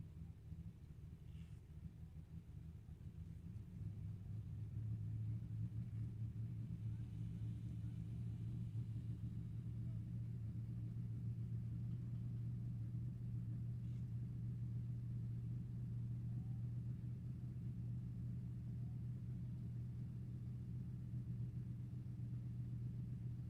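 Drag racing cars running down the strip at an NHRA Summit Racing Series E.T. finals, heard as a faint, distant, steady engine rumble that rises and holds for much of the clip.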